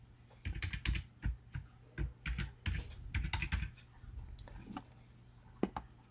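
A username and password go into a login form on a computer keyboard, heard as bursts of quick, close keystrokes with short pauses between them and a single sharper click near the end, with no voice.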